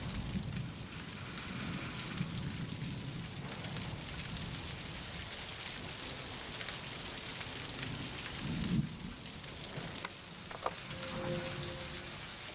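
Steady rain falls outdoors with a dense, even patter on surfaces, continuous and moderately quiet, with no one speaking and a few faint distant knocks near the end.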